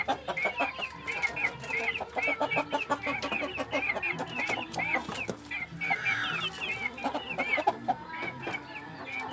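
Sick chickens suffering from snoring breath and a cold cluck repeatedly in short, rhythmic bursts, with several birds close by and a steady low hum underneath, no voices.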